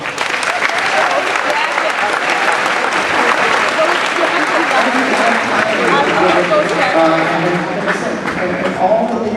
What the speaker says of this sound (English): can we get a round of applause for our Booster Club?